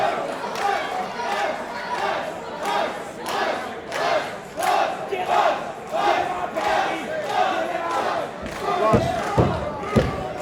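Wrestling arena crowd at a CCW Destiny Awaits show roars and chants steadily throughout, with rhythmic swells of shouting and a couple of heavy thuds near the end.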